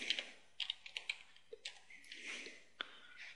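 Fast, close keystrokes on a computer keyboard, tapped out in short irregular bursts with brief pauses in a quiet room.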